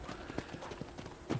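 Horse hooves clip-clop in a steady, fairly quiet rhythm as a horse is ridden in the video game Red Dead Redemption, with no talk over the hoofbeats.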